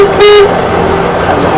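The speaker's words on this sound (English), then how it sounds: "Has a horn." Horn on a 2021 Bobcat S76 R Series rubber-tire skid steer loader gives one short, loud, steady-pitched beep near the start, followed by low machine hum.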